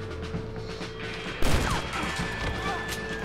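A shotgun blast in the Red Dead Redemption video game: one sharp, loud crack partway through, set against a busy background of game sound and faint voices.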